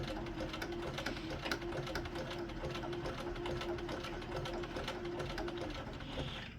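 Bernina sewing machine fitted with an automatic buttonholer, stitching a buttonhole: a rapid, steady mechanical whir and needle clatter at close range, continuing evenly without talking.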